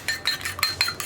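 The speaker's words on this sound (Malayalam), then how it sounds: "മുട്ട ഒന്നുകൂടി ഒന്ന് നന്നായിട്ട് മിക്സ് ചെയ്തെടുക്കുക" A utensil beating egg in a bowl, giving quick rhythmic clinks and scrapes, five or six sharp taps close up within about a second.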